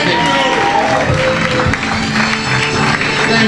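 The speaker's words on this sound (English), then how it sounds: "Come on, clap your hands for Bill." A comedy club audience applauds and cheers as the host takes the stage, a loud, continuous wash of clapping with crowd noise throughout the short stretch.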